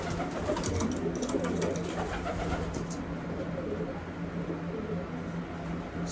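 Racing pigeons coo steadily in a loft, a close, continuous murmur of low throaty calls with faint background rustle and no voices.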